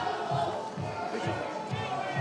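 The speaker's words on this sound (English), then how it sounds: "The Belgian fans cheering for Kevin Powers again." Belgian fans cheer at a noisy cyclo-cross podium in Heusden-Zolder, Belgium: a dense, steady crowd roar with rhythmic shouts rising through it, loud and continuous.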